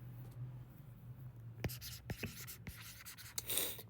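Handwriting with pen on paper during an engineering lesson on a reinforced concrete circular column produces several crisp scratching strokes in a short burst, close by, over a low steady hum.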